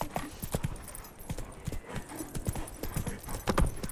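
Roach, a horse in The Witcher 3, with hooves clip-clopping in a steady rhythmic gait of repeated close, crisp hoofbeats, moderately faint.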